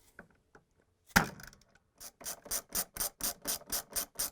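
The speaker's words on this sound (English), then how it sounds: "I'm going to use a plastic mallet to loosen up the screw" A plastic mallet knocks on the rotor screw of a Whirlpool washer motor. One sharp blow is followed by a pause, then a quick, even run of about nine crisp taps, heard close up with no talk.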